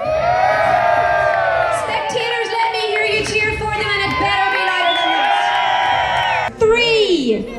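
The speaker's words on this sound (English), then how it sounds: "Let me hear you cheer!" Crowd cheering and whooping for an ultramarathon runner near the finish line at a Castle Ward endurance race, a loud sustained mix of shouts and high yells, surging again at the end.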